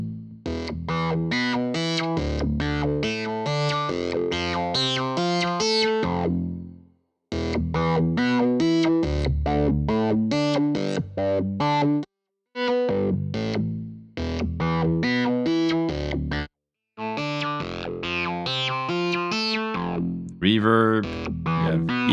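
Distorted electric guitar riffs played through a British Custom amp simulation in Cubasis on an iPad, loud chugging chords and single notes in bursts separated by short silent breaks, with no talking over the playing.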